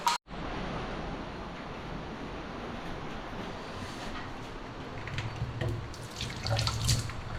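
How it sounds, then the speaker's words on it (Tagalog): Tap water pours steadily into a kitchen sink in a newly finished house, a continuous close splashing rush that swells slightly louder toward the end, with no talking. "may tubig na yung kanyang sink"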